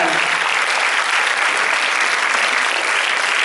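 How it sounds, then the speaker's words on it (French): A theater audience at a film premiere applauds Chantal Trichet, with dense, loud, sustained clapping from many hands and no talk over it. "je vous demande d'applaudir Chantal Trichet"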